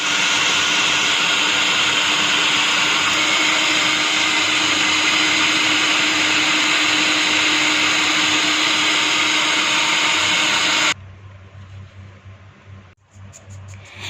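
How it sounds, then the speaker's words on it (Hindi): Dry bread pieces being ground into crumbs in an electric grinder: a loud, steady high-pitched whirring motor runs without a break for about eleven seconds, then cuts off, leaving faint clatter and quiet room noise. "डबल रोटी के जो पीसेस रह गए हैं इनको हम दोबारा से ग्राइंड कर लेंगे।"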